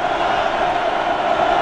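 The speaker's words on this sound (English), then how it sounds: "Crowd deafening already for the defense, and we're just in the first quarter" Deafening stadium crowd roaring for the defense during the first quarter of a 1998 Kansas State vs Texas college football game, a dense, steady wall of cheering with no breaks throughout.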